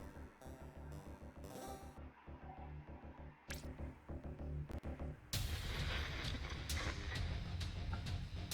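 Rockets and explosions in the strategy video game Warpips, with rumbling game audio, sharp bursts around the middle, then a loud sustained barrage of blasts near the end.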